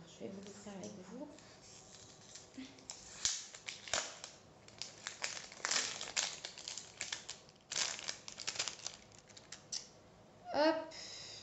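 Crinkling and tearing of plastic packaging as a €3.50 Primark blush is unwrapped up close, with irregular rustles and crackles throughout and a brief sharper snap near the end.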